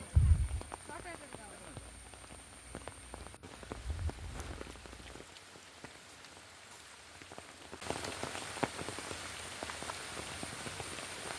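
Steady rain falls across an open park, a dense patter of drops that thickens noticeably toward the end, with voices now and then underneath.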